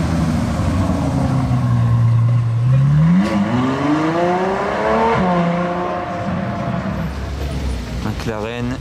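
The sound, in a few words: Ferrari 812 supercar driving past, revving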